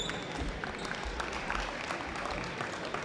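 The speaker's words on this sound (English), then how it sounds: "Please, a nice round of applause for our officials" Applause for the officials in a gym before a high school boys basketball game, Perham versus Barnesville, a broad, steady wash of clapping from the crowd at moderate distance, with no break over a few seconds.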